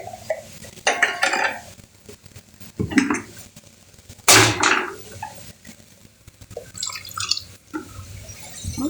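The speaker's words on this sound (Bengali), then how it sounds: "এবার আমি পরিমাণ মতন জল দিয়ে দেবো।" Water poured into a cooking pot on a home kitchen stove, heard as splashing bursts with clinks of metal pot and utensil, a sharp clatter near the middle, fairly close and alone without talk.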